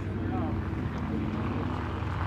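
Propeller drone of a WWII warbird making a pass over the beach at an air show carrying paratroopers, a steady low rumble sustained throughout with faint voices underneath.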